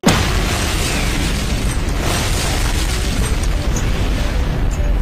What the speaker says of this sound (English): Putting things into him and waiting for them to explode.